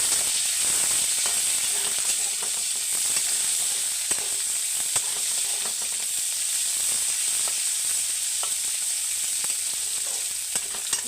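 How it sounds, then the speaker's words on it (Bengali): Onion, chopped ginger and slit green chilies frying in a home kitchen pan, giving a constant bright hiss with occasional soft stirring clicks, close and even from start to finish. "একটু পেঁয়াজটাকে লাল লাল করে ভেজে নেব"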